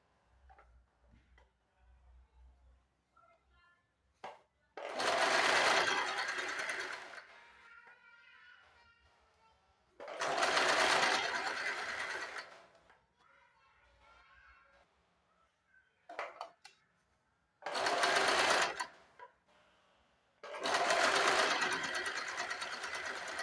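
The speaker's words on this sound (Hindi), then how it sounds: "इस तरह से पलट के चारों तरफ से सिलाई लगा देनी है" Sewing machine stitching around the turned seams of a lined blouse, loud close runs in four separate bursts with quiet gaps and light handling sounds between them.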